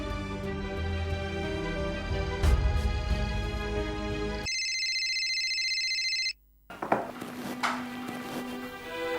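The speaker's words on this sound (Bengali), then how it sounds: "ফোনটা বেজে গেল" A phone ringtone plays indoors in a drama scene, a continuous electronic melody with layered tones that runs for several seconds, then cuts off abruptly, followed by brief clatter and quieter room noise.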